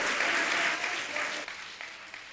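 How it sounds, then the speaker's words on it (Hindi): Applause from a seated audience at a religious discourse gathering, thick and loud at first, then thinning and fading over the last second as the clapping dies down. "आपकी तालियां कम बज रही"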